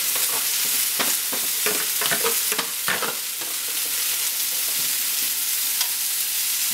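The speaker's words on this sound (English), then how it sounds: "We're going to put some of these remaining mushrooms we have in here" Mushrooms and onions go into a hot pan for chicken marsala, producing a loud, continuous sizzle with a burst of sharp stirring and tumbling sounds in the first few seconds, then steady frying.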